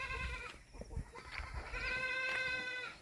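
Goats bleat close by in several drawn-out, wavering calls, with some rustling and shuffling between them.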